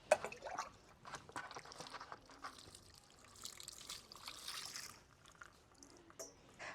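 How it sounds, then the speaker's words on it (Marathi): A freshly picked raw green papaya being rinsed clean, with soft trickling, pouring and dripping water close by, quiet and continuous with small splashes, no one talking. "आपण झाडावरची ताजी ताजी पपई तोडली आहे ती आता आपण स्वच्छ धुवून घेऊया"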